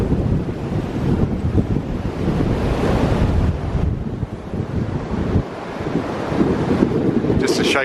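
Strong wind blows outdoors at Avebury in midwinter, buffeting the microphone with a steady loud rush and gusts throughout, with faint talk briefly audible.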